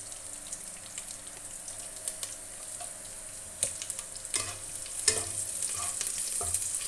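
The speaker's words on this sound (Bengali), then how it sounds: "রসুনটা হালকা হালকা করে ভেজে নেব।" Chopped garlic frying lightly in oil in a wok for potato chilli, a gentle steady sizzle broken by scraping stirs and sharper clinks that grow busier toward the end, no talking.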